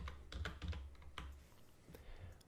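Quiet keystrokes tap out a short search on a computer keyboard, a brisk run of soft clicks followed by a few scattered presses, heard faintly and alone.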